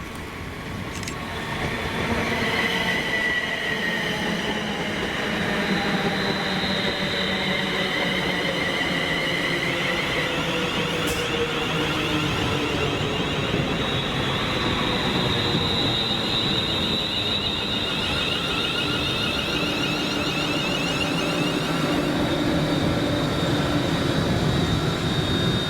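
London Northwestern Railway class 350 units 350231 and 350250 on a Birmingham New Street to Crewe service passing through Stafford station, a steady loud rushing roar of wheels and motors with a faint whine, sustained throughout with no voices.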